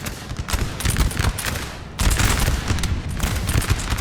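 Dense musket volleys crackle in a Napoleon Total War battle firefight, a continuous loud barrage of overlapping gunfire that swells and renews around the two-second mark, with no voices.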